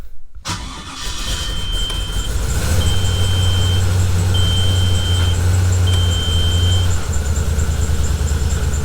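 A quad turbo car engine cranks and fires near the microphone, then settles into a steady, loud idle with a droning rumble, broken by a brief change in tone toward the end.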